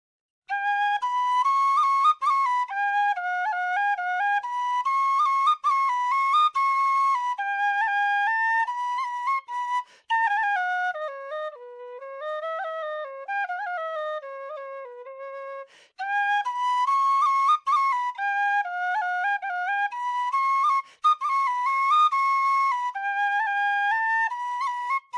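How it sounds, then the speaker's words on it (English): A C tin whistle plays a continuous melodic tune for about 25 seconds, its pure, bright tones stepping between notes with brief pauses between phrases, solo and close with no talking. "It's really a long time warming up, this whistle."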